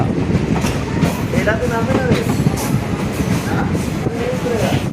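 A passenger train on the Dooars route out of Siliguri pulls into Bagrakot station, its wheels clattering steadily and loudly under a continuous rumble, with faint voices of people nearby throughout.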